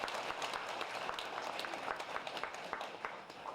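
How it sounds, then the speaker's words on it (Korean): Applause from townspeople welcoming the mayor at a citizens' meeting in Gwangmyeong 5-dong. The clapping is faint and distant, with a steady patter of scattered hand claps throughout. "백대현 시장님을 위해 뜨거운 박수로 환영해 주시기 바랍니다."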